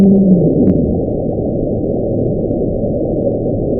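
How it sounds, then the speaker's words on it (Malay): A strange whine from the deep ocean, picked up by a hydrophone array in the eastern equatorial Pacific and thought to come from the Bransfield Strait area, plays as a steady low rumbling drone with a faint tonal layer near the start, continuous and without voices. "Bunyi rengekan aneh ini dirakam oleh Susunan Autonomi Pasifik Khatulistiwa Timur"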